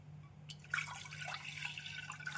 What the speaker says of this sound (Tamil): நாம் 1/2 டம்ளர் தண்ணீரை கொதிக்க வைத்து ஊற்றிவிடலாம்